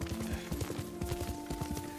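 Horse hooves clip-clop at a steady trot while riding in the video game Ghost of Tsushima, a close, rhythmic stream of hoofbeats over a faint tonal music bed.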